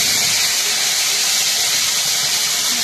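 Ground masala paste hitting hot oil with whole garam masala, in oil just used to fry katla fish for kaliya, a loud, even, unbroken hissing sizzle throughout.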